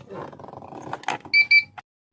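After a stretch of talking, the aftermarket start-stop engine system fitted to a Daihatsu Ayla car gives two short, loud electronic beeps in quick succession, close and clear, followed by a brief click.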